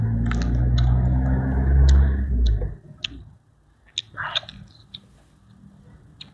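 Wet chewing and soft biting on blanched squid dipped in seafood sauce, heard close up as irregular squishy clicks after a stretch of low rumbling background.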